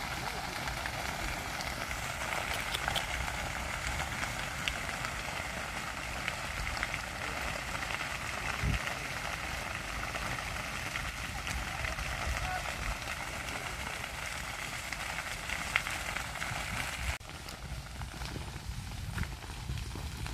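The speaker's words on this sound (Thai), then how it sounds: "ไฟไหม้พี่น้อง ไหม้ดงอีกแล้วครับไหม้ดงอีกแล้ว" Brushland fire burning with a steady crackling, sizzling roar that holds at an even, loud level throughout, dipping slightly near the end, with no clear talk over it.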